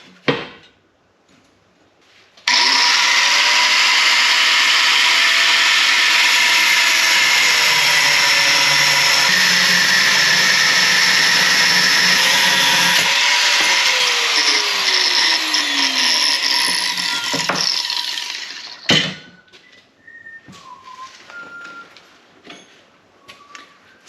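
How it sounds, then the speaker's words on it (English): Angle grinder cutting along a marked line on a steel truck trailer hitch part, a loud sustained high whine with pitch dipping as the blade loads, starting abruptly after a clunk and stopping near the end, followed by scattered clanks. "I've got my angle grinder and I've got my line marked."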